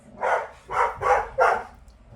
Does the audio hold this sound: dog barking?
yes